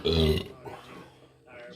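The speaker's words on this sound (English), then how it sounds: "That burp, you burping." A loud, close, low-pitched burp opens the clip, followed by quieter murmuring voices and faint background noise.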